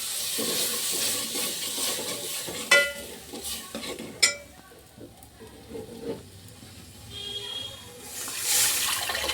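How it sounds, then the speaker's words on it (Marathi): Cooked toor dal is tipped into a pan and stirred for dhaba-style dal, giving close wet scraping and stirring sounds with a soft sizzle, sharp spoon knocks near 2.7 and 4.2 seconds, and a brief hiss toward the end. "चला आता आपण टाकू आपली शिजलेली डाळ."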